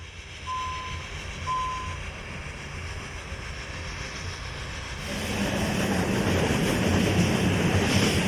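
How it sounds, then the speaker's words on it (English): A railway locomotive drops down the grade from Gletsch into Oberwald. A steady rumble grows noticeably louder and fuller partway through, and two short, clear beeps sound near the start. "Later the loco is seen on the return from Gletsch, dropping down the grade into Oberwald."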